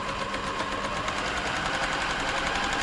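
A Silver/Pfaff 1139 sewing machine runs a stretch stitch, giving a steady, fast mechanical whir with rapid rhythmic needle clatter, close and continuous without a break.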